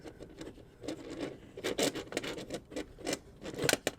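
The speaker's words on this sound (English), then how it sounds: "Let's remove the battery right now with the handy plastic pull." Battery pulled from an Elecraft KX2 ham radio by its plastic pull tab: a run of short scraping, rubbing and clicking plastic sounds, close up and uneven, with no talking.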